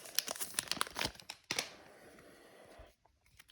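Final Fantasy trading card packs being torn open, quiet close crinkling and crumpling of foil wrappers in quick bursts, then a stretch of softer rustling that fades out.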